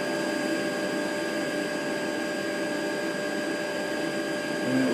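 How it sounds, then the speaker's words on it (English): A tensile testing machine grips a steel rebar sample in its jaws, giving a steady electric hum with a constant tonal whine and no pauses, loud and close. "If I now press the start, the machine will try and grip hold of the bar"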